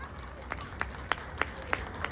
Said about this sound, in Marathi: सगळ्यांनी जोरदार टाळ्या वाजवायच्या आहेत.